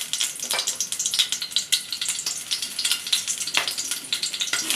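Broken green chilies and black pepper frying in a spoonful of oil in a pan, a steady close sizzle with crackling bursts throughout, no speech.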